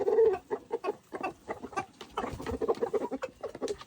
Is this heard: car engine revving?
no